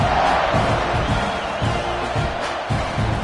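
Football stadium crowd roaring as the ball is kicked off at a college game, Texas A&M against Virginia Tech, a dense, steady wall of cheering with pulsing swells and shouts throughout.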